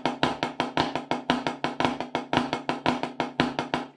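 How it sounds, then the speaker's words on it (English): Drum triplets played as a flam accent rudiment, each group's first note accented with a flam, in a steady rhythm of about 24 sharp hits over four seconds, close and loud with no talk. "so you've got like a flam accent rudiment"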